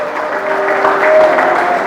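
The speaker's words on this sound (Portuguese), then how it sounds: "Quem aplaude a Jesus nesta hora?" A church congregation applauding for Jesus during a Portuguese sermon, a brief burst of dense crowd clapping with a faint tone lingering underneath.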